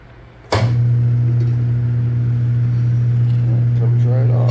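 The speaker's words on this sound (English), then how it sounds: "We take our bar, we slip it in there against the machine, and we step on the pedal." A foot pedal on a tire changing machine is pressed to break the bead of a Harley Ultra Classic front motorcycle tire, giving a sudden loud thump that is followed by a steady, strong mechanical hum from the machine's motor.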